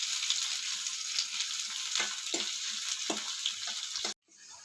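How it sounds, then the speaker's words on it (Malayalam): Food frying in coconut oil in a pan on a stove, a steady close sizzle with faint stirring clicks, cutting off abruptly near the end. "വെളിച്ചെണ്ണ ഒഴിക്കുകയാണ് ചീനച്ചട്ടിയിൽ."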